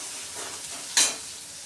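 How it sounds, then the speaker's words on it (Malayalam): Onions and curry leaves fry for beef curry, a soft steady sizzle close by with one brief bright hiss burst partway through. "നല്ലവണ്ണം സവാള നല്ല ഫ്രൈ ആവുന്നത് വരെ വഴറ്റി കൊടുക്കും."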